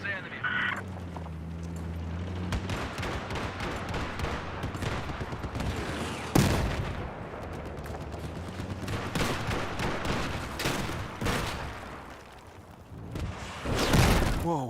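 Gunfire in the video game Battlefield 4: bursts of shots and fusillades, with sharp loud cracks near 6 and 14 seconds, amid battle noise and engine drone, with people talking throughout.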